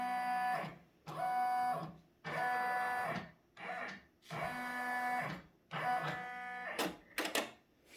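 Brother 1055 XP embroidery machine tracing a monogram design on a towel floor mat, its motor whirring in steady bursts with short pauses between the moves, close and fairly loud, with no voices.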